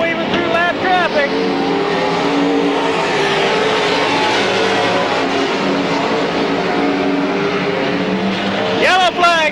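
Race cars roar around an oval speedway at Midvale in 1995, weaving through lap traffic in a dense, continuous engine howl with passing whines, while an announcer talks over the racing.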